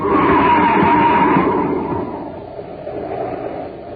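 Car skidding toward a cliff edge in a Space Patrol radio drama effect: a loud, sustained, band-limited screech and rush of noise that slowly fades over several seconds, with no voices.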